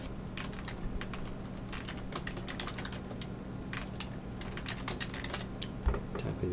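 A password being typed on a computer keyboard during an Exchange 2010 server installation: a steady run of quick, light key clicks at close range, with a low hum underneath and no talking.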